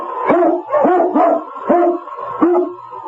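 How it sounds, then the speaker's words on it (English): Eskimo sled lead dog barking in a series of about five loud, evenly spaced barks with some howling tone, heard alone in a snowy Yukon setting. "King, the swiftest, strongest of Eskimo lead dogs, blazes the trail through storm and snow"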